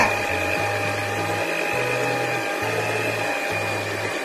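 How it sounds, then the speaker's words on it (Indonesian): Small electric hand mixer working pineapple bread dough, a steady high motor whine with the low drone stepping up and down in pitch as the beaters catch and release the dough, close and continuous. "Karena ini mixer kecil, kita ke tengah-tengahkan ya."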